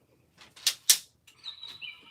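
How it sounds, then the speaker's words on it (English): A bird flaps its wings in two quick, sharp bursts close by, followed by a few faint chirps and rustles in an otherwise quiet indoor room. "I hear you, bird."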